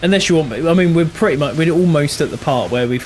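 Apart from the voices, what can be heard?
No everyday noise stands out behind the speech.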